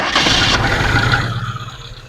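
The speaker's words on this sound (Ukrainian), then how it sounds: "Двигунчик працює чотенько" A ZAZ Slavuta car engine runs with a steady, even drone, fairly close, gradually easing off slightly toward the end.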